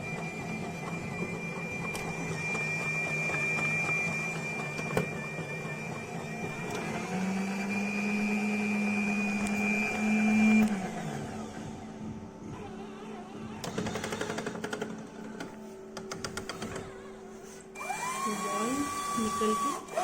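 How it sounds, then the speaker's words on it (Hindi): A Rotimatic automatic roti maker running nearby in a kitchen: a continuous mechanical whir with a rising motor whine, scattered clicks and clunks as its parts move. "रोटी की आवाज।"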